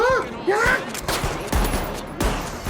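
Rapid gunfire bursts in the video game The Finals, several loud cracking volleys in quick succession, with a voice briefly speaking at the start.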